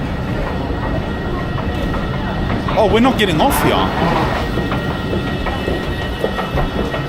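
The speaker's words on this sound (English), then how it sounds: "That's our train, bro." A train bound for Malmö via Rosengård rumbles steadily at a Swedish station, with a brief squealing screech midway and a voice speaking over the continuous rail noise.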